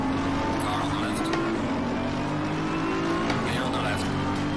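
Race car engine in the racing simulator Assetto Corsa Competizione, a loud, steady high-revving whine with shifting pitch lines and nearby cars, while a voice talks over it.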